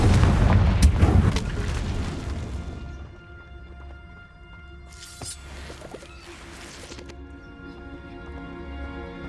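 Confringo, an explosive fire spell cast in the video game Hogwarts Legacy, lands as a loud booming blast with crackling debris in the first two seconds, then fades into a quieter ambient hum with a few faint later impacts.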